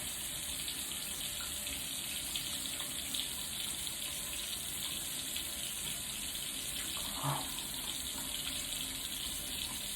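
Water runs steadily from a bathroom sink tap in a constant, full hiss while hands are wetted beneath it, with a faint brief splash partway through and no talking.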